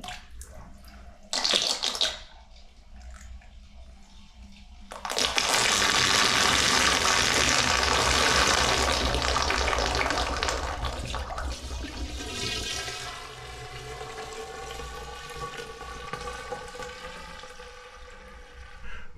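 Water rushes loudly down the drain of a newly built DIY shower pan waterproofed with Kerdi and Hydroban, a steady close gurgling flow that follows a brief splash and gradually softens.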